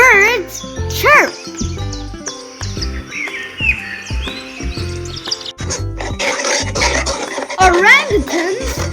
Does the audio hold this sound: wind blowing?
no